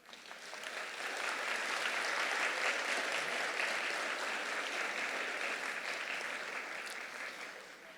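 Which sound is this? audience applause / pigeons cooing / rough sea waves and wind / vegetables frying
audience applause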